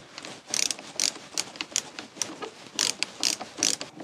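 Screws being driven into a curtain rail inside a Volkswagen Caddy van, heard as a run of sharp, closely spaced ratcheting clicks in short bursts, near and fairly loud with no talk.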